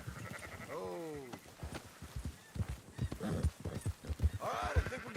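Sheep bleating and horse hooves clip-clopping in Red Dead Redemption 2, repeated bleats over a steady trot of hooves, with a voice talking in between.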